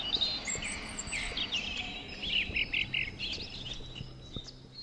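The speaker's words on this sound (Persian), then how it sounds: "اگه خوب دقت کنین صدای سینه سرخ و چیف چاف و چرخریسک میاد." Real birdsong from a robin, a chiffchaff and other birds, several high chirps and trilling phrases overlapping against a faint background hum, moderately near and fairly quiet.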